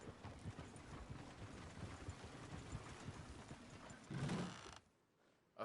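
A horse's hooves clip-clop in a steady, quiet rhythm at a distance, then a brief louder rustle before the sound drops away to near silence.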